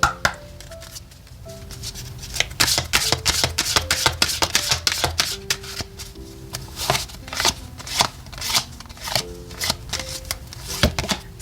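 Lenormand fortune-telling cards being shuffled by hand, a long run of crisp riffling and flicking card noises close up, with quiet music underneath.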